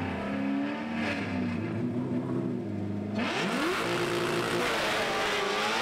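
Drag race cars launch at the NMRA World Finals, engines roaring loud and close as revs rise, a sharp burst of acceleration sweeping upward around the middle, with a public-address voice calling over the noise.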